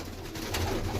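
Pigeons in a flock coo in a low, continuous murmur that stays steady and fairly close, with no voices over it.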